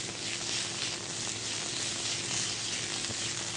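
Onions sautéing in a pan for Kerala fish moilee give off a steady, even sizzle that stays close and constant, with no talk over it.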